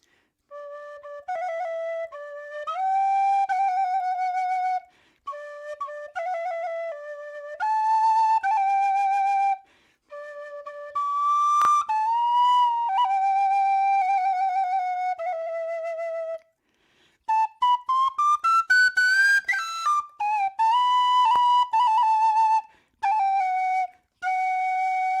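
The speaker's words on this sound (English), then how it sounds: "So I'm going to play it on the whistle." Happy Birthday is played on a whistle as a clear, bright melody of sustained notes in phrases with short pauses. It is loud and close, with no voices.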